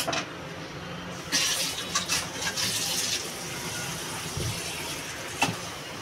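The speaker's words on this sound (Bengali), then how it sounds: "বন্ধুরা, লাউটা ছুলে নিয়েছে, এবার ধুয়ে নেব আমি।" A peeled bottle gourd is rinsed under a running kitchen tap, with a steady splashing water flow broken by a few louder gushes and a brief knock near the end.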